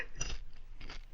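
Someone chews Halloween candy close to the microphone in a few short, crunchy bites, quiet and with no talk.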